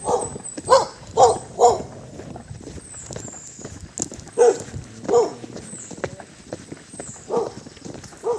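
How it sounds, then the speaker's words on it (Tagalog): A dog barks repeatedly in short clustered bursts, fairly close, with pauses between groups of barks over quiet outdoor background. "may aso nga pala rito na bumabatok."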